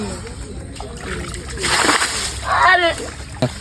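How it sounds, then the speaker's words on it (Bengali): Water splashing and sloshing as someone stirs a shallow patch of water by hand to flush out fish, close and choppy, with voices talking over it. "শুধু ওই জায়গায় জল নাড়ানাড়ি করো তাহলে মাছ বেরোবে"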